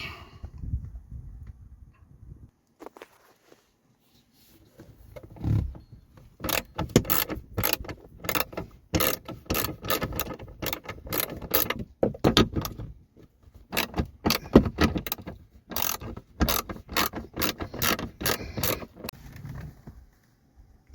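Ratchet working two 7mm bolts loose from a car interior panel, a series of sharp metallic clicks in quick bursts with pauses between, close and clear with no talking.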